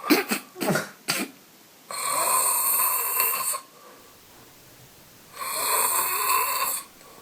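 A man with sleep apnea snoring in his sleep, a few quick breathy snorts and rasps followed by two long, loud rattling snores with a quiet pause between them.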